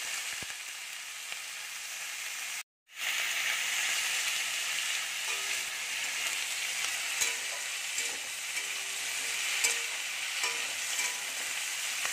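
Sliced bottle gourd and potatoes hit hot oil together in a wok, giving a loud, steady sizzle that runs throughout, broken only by a brief silent gap near the start, with occasional clinks of stirring.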